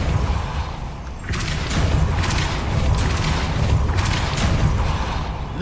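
The Depulso force spell is cast in Hogwarts Legacy, giving heavy booming bursts with crackling blasts over a dense rumbling game soundscape, two strong surges standing out.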